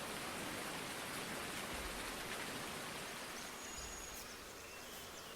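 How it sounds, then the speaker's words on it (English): Steady rain in the video game Farming Simulator 19, a soft continuous hiss of falling drops that eases slightly toward the end, with no talk. "It looks like the rain may be stopping."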